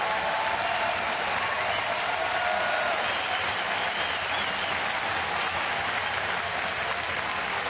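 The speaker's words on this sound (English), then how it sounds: "A very deserving round of applause right there." Baseball crowd at a Colorado at Toronto game applauds as pitcher Ismael Rogers leaves in the seventh inning; loud, steady, sustained stadium clapping and cheering fills the whole stretch without letup.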